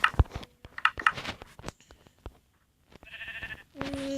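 Minecraft sheep bleat several times in short, clipped bursts amid game effects, with a couple of brief tonal sounds near the end.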